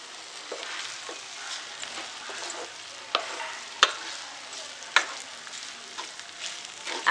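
A fish biryani mixture with fried onions stirred and frying in a pan: a soft constant sizzle punctuated by several sharp clacks and scrapes of a spoon against the pan.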